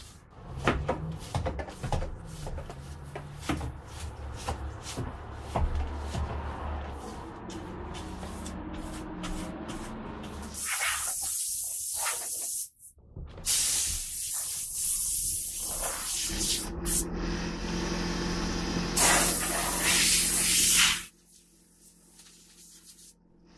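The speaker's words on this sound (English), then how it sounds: "Then I used compressed air to blow out the crevices along the siding and under the railing." Compressed air blowing out crevices along the siding and under the railing of a 100-year-old house's porch, heard as long loud hissing blasts in stretches, close, with clattering and handling noises before them.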